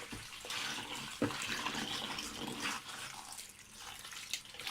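Tap water runs steadily into a sink while salad greens are rinsed, a close, hissing, splashing flow with occasional sharper splashes as the leaves are handled.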